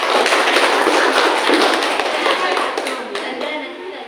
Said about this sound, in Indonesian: tepuk tangan untuk saya